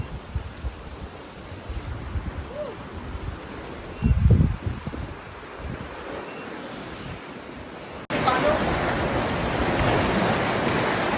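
Rough sea surf churns and crashes against the shore at Camotes Island, a steady roar of breaking waves with heavy wind buffeting the microphone and a louder surge partway through.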